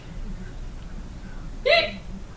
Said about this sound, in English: Oh, you had a hiccup.